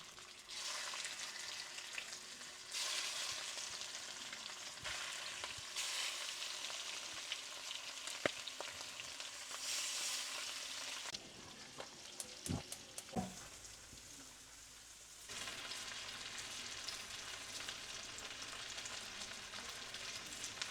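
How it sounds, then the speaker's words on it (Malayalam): Fish shallow frying in a pan of oil for Kerala-style fish mappas gives a continuous crackling sizzle that swells and drops in sections, with occasional clinks and taps, and no talking. "ഇതിലേക്ക് മീനിട്ട് കൊടുക്കുക. ഷാലോ ഫ്രൈ ആവും"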